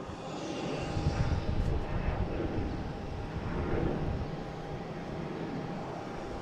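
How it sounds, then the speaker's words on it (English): An American Airlines Embraer E175, operated by Republic, arriving at Boston Logan from Buffalo, its engine roar steady and moderately loud throughout, with some wind noise. "just coming in here is American Airlines coming from Buffalo. E175."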